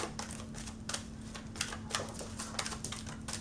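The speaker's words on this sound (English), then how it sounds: "I have to shuffle slow with the bigger cards." Large tarot cards shuffled slowly by hand during a pick-a-card reading, giving a steady run of close, crisp riffling clicks and slaps with a low steady hum underneath.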